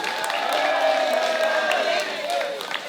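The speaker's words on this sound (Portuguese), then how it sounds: "Deixa eu dar forte aplauso para nós, Reina juvenil." Crowd applause and cheering for a carnival youth queen's presentation, a scatter of claps and whoops beneath a loud, amplified voice that dominates throughout.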